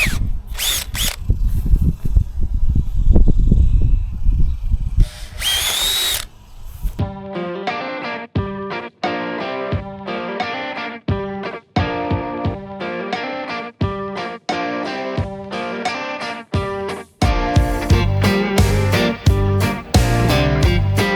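Power drill boring half-inch holes through PVC conduit pipe outdoors, a series of short, loud bursts with brief pauses between them, each burst steady and buzzy with a harsh whine, after an opening stretch of lower rumbling handling noise.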